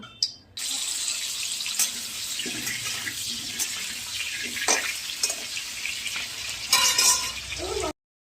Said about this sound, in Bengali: তার জন্য আলু কেটেছি, এখন আলু আমি ভাজা করব।